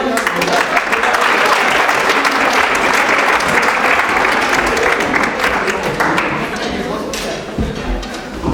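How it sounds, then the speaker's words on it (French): A room of participants at a women's entrepreneurship event applauds themselves: loud, dense, sustained clapping that fills the space and gradually eases off toward the end, with a few voices mixed in. "On peut s'applaudir."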